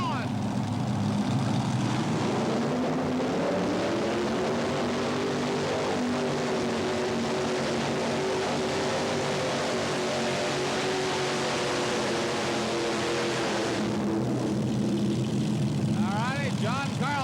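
A multi-engine pulling vehicle of around 4,500 horsepower, its back motor clutched to the main drive shaft, drones loudly and steadily with engine pitch rising and holding, heard alone across the whole stretch.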